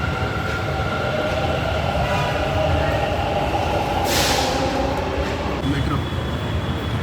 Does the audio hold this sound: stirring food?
no